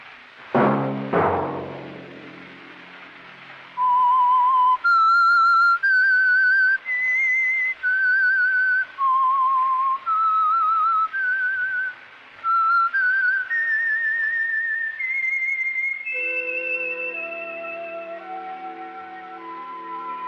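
The Whistler radio show theme: a lone whistled melody of sustained, gliding notes in an eerie tune, with a brief thud at the start and a low sustained orchestral chord entering near the end.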